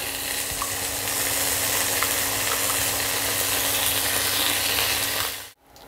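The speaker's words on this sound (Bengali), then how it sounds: "পেঁয়াজটা একটু ভাজা ভাজা হয়েছে, এবার আমি দিয়ে দিচ্ছি আদা রসুন কাঁচা লঙ্কা পেস্ট।" Ginger, garlic and green chili paste fries with onions in a pan, giving a loud, even sizzle that continues steadily before cutting off abruptly at the end.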